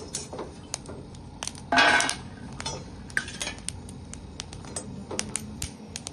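Roasted peanuts are scooped out of an iron wok, heard as repeated metallic scrapes and clinks, with one louder rattling burst near the start, all close and without talk.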